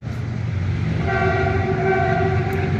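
A train passes close to a railway station, its rumbling rolling noise filling the clip as a loud, steady horn sounds for over a second near the middle.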